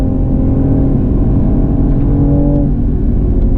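Toyota Supra prototype accelerating hard on the Circuito del Jarama race track, a loud, close engine drone climbing steadily in pitch through a gear with no voices heard.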